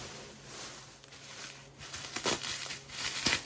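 Packaging around model railway track joiners is unwrapped, a soft crinkling and rustling of plastic that grows busier and louder toward the end, close by with no speech.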